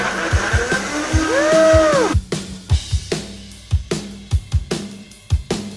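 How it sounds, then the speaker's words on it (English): A countertop blender whirs while blending raw vegan cashew cheesecake filling with lemon juice, rising in pitch for a couple of seconds, then giving way to a series of sharp knocks and thumps. "And now we're ready for our final blend."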